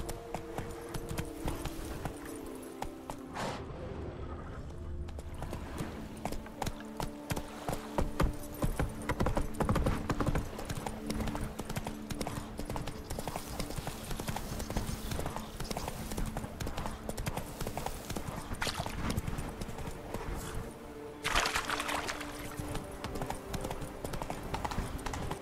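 Geralt's horse Roach galloping in The Witcher 3: Blood and Wine, a long, fast, steady drumming of hoof beats under a continuous music and ambient bed, with a brief pause and shift near the start.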